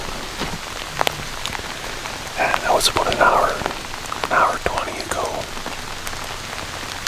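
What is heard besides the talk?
rain falling during a bear hunt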